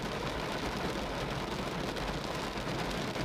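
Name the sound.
heavy rain outdoors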